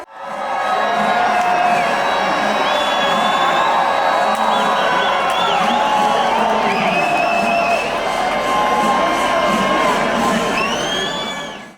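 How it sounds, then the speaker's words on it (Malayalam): A dense festival crowd at Thrissur Pooram roars with sustained cheering, whoops and high shouts, loud and continuous from start to finish amid the festival's percussion. "ആൾക്കൂട്ടത്തിൻ്റെ ആർപ്പുവിളികളുടെ അലകൾ ഈ വാദ്യഘോഷങ്ങളെപ്പോലും നിഷ്പ്രഭമാക്കുന്ന തരത്തിലുള്ളതാണ്."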